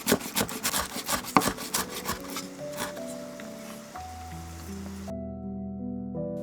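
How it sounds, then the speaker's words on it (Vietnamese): Knife chopping green onions on a board, a quick run of close, sharp cuts over soft music, the chopping thinning out midway as the music carries on. "Cắt thêm một ít hành lá."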